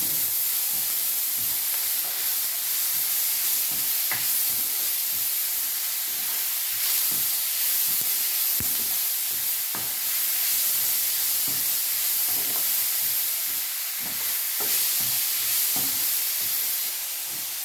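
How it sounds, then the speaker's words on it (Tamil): A pan of tomato mixed with soaked tamarind is stirred over heat, with a steady sizzling hiss and repeated soft scraping taps from the spoon, close by and without talk. "நான் தக்காளி பழம் கூட ஒன்று அதையும் போட்டு இதெல்லாம் மிக்ஸ் பண்ணுறேன்"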